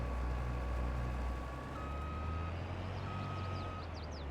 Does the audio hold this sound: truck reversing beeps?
yes